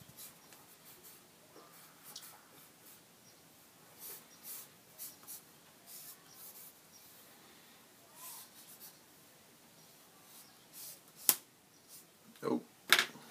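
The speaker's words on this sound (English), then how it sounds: "I'm just using a number 2 pencil for this. Notice I'm using the side of the pencil." Side of a number 2 pencil shading on paper, soft scratchy strokes in short bursts, faint and close, with a few sharper taps near the end.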